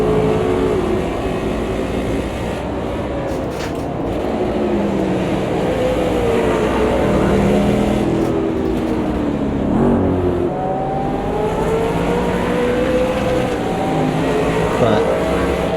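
A NASCAR race car engine accelerating in the racing game Automobilista 2, a steady loud drone that rises and falls in pitch as it revs, with a driver talking over it.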